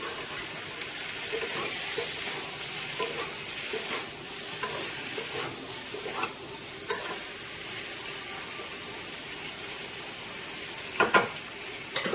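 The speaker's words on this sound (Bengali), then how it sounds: "সামান্য লবণ, সামান্য হলুদ দিয়ে পটলটাকে ভালো করে ভেজে নিয়ে নামিয়ে নেব" Pointed gourd pieces frying with salt and turmeric in a pan, giving a steady soft sizzle with occasional light stirring clinks and a couple of louder scrapes near the end.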